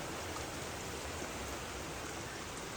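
Steady, even hiss of rain beginning to fall, soft and continuous with no distinct drops or voices standing out.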